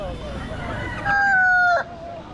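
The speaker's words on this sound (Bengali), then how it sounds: "লড়াই এটা হচ্ছে লড়াই মুরগি" A fighting rooster at a busy West Bengal livestock market gives one loud, close crow over a background of crowd murmur.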